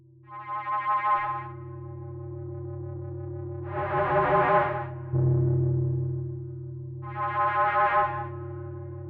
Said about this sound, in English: I've added a sound that has this weird sort of modulation going on in a couple